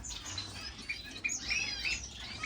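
Pair of shaft-tail finches in an indoor bird room giving soft, high chirps and short tweets, scattered and fairly faint against a quiet background.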